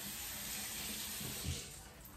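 Tap water runs steadily into a sink for wetting the face before applying face wash, a continuous close splashing flow with a slight surge near the end.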